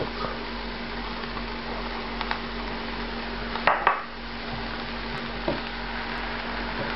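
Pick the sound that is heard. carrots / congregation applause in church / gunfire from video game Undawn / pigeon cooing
carrots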